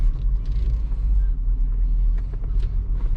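A 2012 Mercedes GLK350 4Matic all-wheel-drive SUV drives along, heard from inside the cabin as a steady low engine and road rumble with faint wind noise, loud and continuous.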